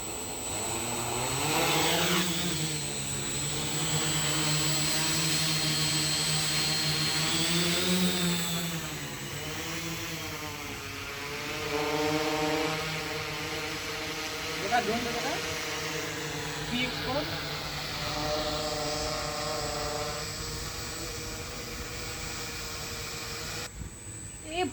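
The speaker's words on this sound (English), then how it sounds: "Now let's fly our drone and see how it's working." A DIY FPV drone with an anti-vibration camera tilt mechanism flies nearby, its motors producing a steady high whine whose pitch rises and falls with throttle, and voices are heard at times.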